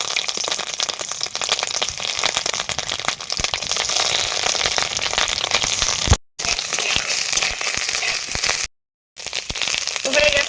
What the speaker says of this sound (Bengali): এবার একটু হালকা তেলে ভেজে নিতে হবে